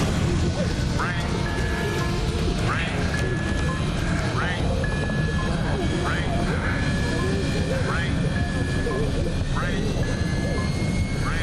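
A passenger airliner whose cockpit window is blasted by a volcanic ash cloud lands blind, its engines roaring in a loud, continuous wash with repeated short chirping tones sounding over it.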